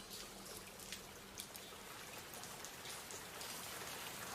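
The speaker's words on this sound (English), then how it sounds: "Is that rain?" Rain falling on the surface and dripping down into an underground place in an anime scene, a faint, steady patter with scattered drops and no voices.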